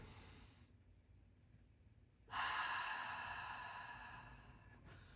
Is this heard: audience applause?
no